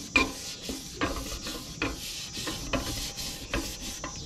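A squeegee is rubbed over guide coat on a part from a 1955 Harley-Davidson K model, making about a dozen quick, close, scraping strokes in an even, repeating rhythm.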